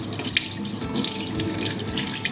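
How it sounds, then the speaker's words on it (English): Water runs steadily from a kitchen faucet into a sink while hands are washed during salmon prep, a close, continuous splashing rush with small irregular spatters and no talking. "Let me just wash my hands."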